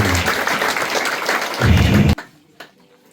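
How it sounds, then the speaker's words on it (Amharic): A church congregation applauds loudly and steadily, with a surge of clapping and voices before it cuts off abruptly into near-silence with a faint thump. "እልልታ ጭብጨባ"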